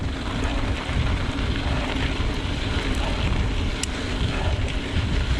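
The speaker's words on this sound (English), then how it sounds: "Pretty heavy wind in the face today." Heavy headwind buffeting a microphone during a mountain bike ride, a loud continuous low roar filling the whole stretch with no break.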